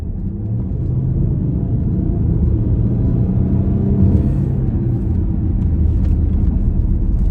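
A Range Rover Sport diesel engine rumbles steadily at close range, a deep continuous drone that swells slightly as the SUV pulls away under load.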